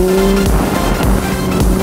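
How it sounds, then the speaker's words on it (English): Vehicle popping a wheelie, with a loud steady engine roar and tire noise that pulses in regular surges, close and unbroken. "I'm doing the old Jamie wheelies"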